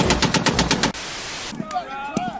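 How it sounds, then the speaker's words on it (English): Machine gun firing a loud, rapid burst of about seven close shots, followed by a wash of noise and then people talking. "It's a machine gun."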